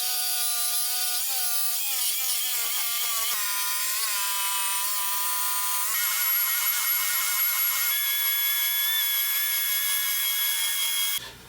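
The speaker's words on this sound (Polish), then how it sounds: "Przejechałem ją jeszcze szlifierką mimośrodową, tak aby była gładka w dotyku" A random orbital sander whines steadily against wood, its pitch wavering and shifting as it moves, then cuts off abruptly at the end.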